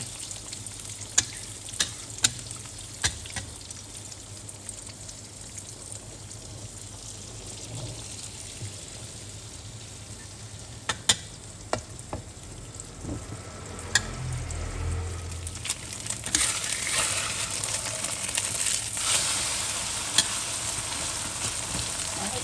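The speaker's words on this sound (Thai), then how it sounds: "จากนั้นเราก็เจียวไข่ต่อเลยค่ะ" Eggs fry in oil left from frying garlic, a steady broad sizzle that swells louder and denser toward the end, with occasional sharp pops and crackles and no one talking.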